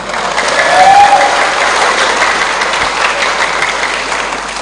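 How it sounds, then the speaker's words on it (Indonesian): Audience at a religious lecture bursting into sustained applause, a dense roar of clapping from a large crowd that swells in the first second and holds steady, loud and close. "Tepuk tangan dong."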